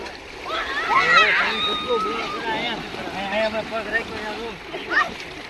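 People, children among them, splash and play in water, with loud broadband splashing running throughout under overlapping chatter and excited voices close by.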